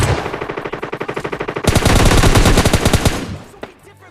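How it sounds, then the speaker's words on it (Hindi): Automatic gunfire in PUBG Mobile Lite zombie mode, a video game: a steady burst of rapid shots that swells into a dense, louder volley and then trails off, heard alone. "जैसे मैंने उस बंदे को पहला शॉट मारा होगा"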